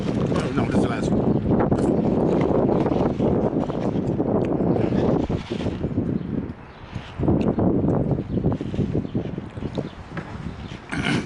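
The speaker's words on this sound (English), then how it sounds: "The damn wind is too much, man." Outdoor wind buffets the microphone in loud, rough, low gusts that roar nearly without pause and ease briefly midway.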